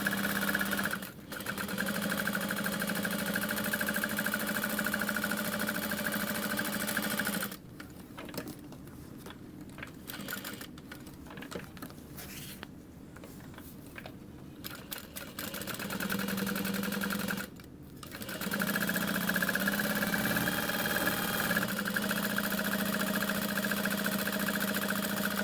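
Sewing machine stitching a tote bag, its steady mechanical whir running in long bursts separated by pauses and small handling noises.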